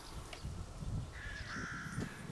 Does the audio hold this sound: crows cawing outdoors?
yes